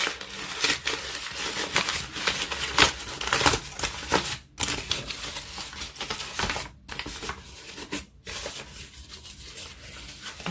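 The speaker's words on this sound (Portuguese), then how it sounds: "O papel ficou bem amassado. Agora eu vou desamassar o outro." Sheet of crumpled paper being uncrumpled by hand, a steady run of crinkling, rustling and rubbing close up with brief pauses, no talk.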